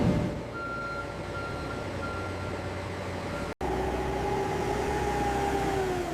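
A refrigerated truck reverses at a frozen french fry factory, its steady reversing beeps sounding over a continuous engine drone, with a brief cut partway through.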